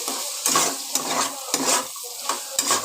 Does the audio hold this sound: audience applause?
no